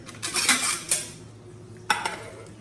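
A plate clinks and scrapes against kitchen dishes as it is set over food, with a few sharp ceramic knocks at close range and quiet gaps between them.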